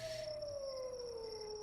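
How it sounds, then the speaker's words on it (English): A lone wolf howl sound effect plays during a tabletop game session, a faint, sustained tone that droops gradually in pitch with no other sounds around it. "I heard the wolf howl too."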